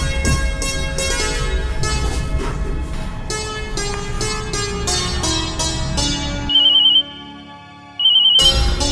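A phone ringtone plays for an unanswered call, a loud melodic ringing pattern that runs for several seconds, breaks off briefly with a faint beeping, and then starts again.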